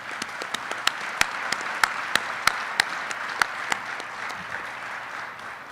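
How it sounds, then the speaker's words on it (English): Audience applause at an Army NCO Academy change of responsibility ceremony, a steady bed of clapping with sharp individual claps standing out near the microphone, continuing evenly for several seconds. "Round of applause for this awesome, tremendous Army family."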